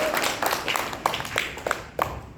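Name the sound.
weak audience applause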